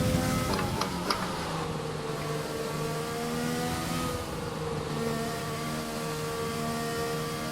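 A racing car engine from a Formula 1 video game at the Belgian Grand Prix drones continuously at steady high revs, with a couple of brief clicks early on and no talk.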